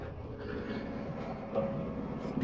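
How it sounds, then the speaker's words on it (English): Steady low rumble of the Caledonian Sleeper train in motion, heard from inside a sleeper cabin, with a continuous mid-level drone and faint rattles and creaks running throughout. "there's obviously a wee bit of noise from the train moving"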